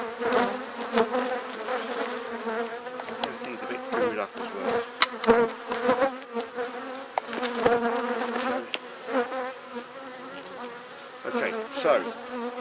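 A dense, close swarm of honey bees around a hive hums and drones continuously, with individual insects whizzing past; someone speaks briefly over the buzzing.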